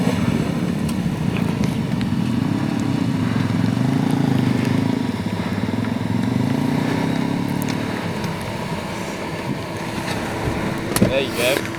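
Suzuki Jimny AllGrip crawling off-road in 4-low with hill descent control, a steady low engine drone and rumble from a close interior position with wind buffeting, and a few scattered clicks and knocks near the end.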